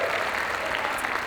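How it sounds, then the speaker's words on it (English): Audience applause at Virginia Maloney's 2026 inauguration, a short steady wash of many hands clapping at fairly close range, with no talk over it. "So another round of applause."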